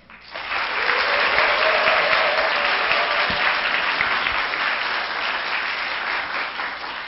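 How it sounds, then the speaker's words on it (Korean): Strong, sustained applause and cheering from an audience at a Korean government-hosted SNS forum on skilled technicians, rising quickly and holding steady and loud throughout without speech. "힘찬 박수와 함성 보내주시기 바랍니다"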